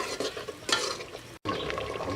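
A spoon stirs a seasoned ekuru mixture in a pot, making soft wet scraping swishes in uneven strokes close up, with a brief moment of silence midway.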